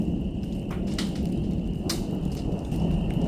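Heavy rain and hail drum on a barn roof during a thunderstorm along the Ozark Highlands Trail, a dense steady roar with low rumbling and scattered sharp impacts, loud and close.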